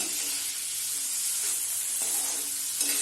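Paneer pieces frying in a pan for paneer butter masala, a continuous soft sizzle with light turning sounds, close and steady throughout.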